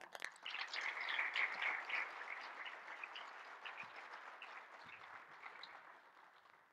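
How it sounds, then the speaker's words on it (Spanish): Dense audience applause at a united prayer gathering, loud and sustained at first, then thinning and gradually fading toward the end. "Le recibimos con un gran aplauso."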